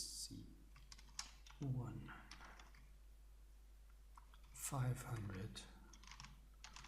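Keyboard typing on a computer during inventory data entry, a steady patter of quick key clicks running under a voice that talks through most of the stretch.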